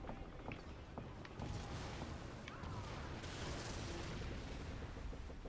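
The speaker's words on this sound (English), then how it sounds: "we're getting shot at by, looks like the Hubert twins ship" An enemy ship fires its cannons in the naval game Skull and Bones, with distant booms and rumbling impacts over a steady wash of sea and wind, faint throughout.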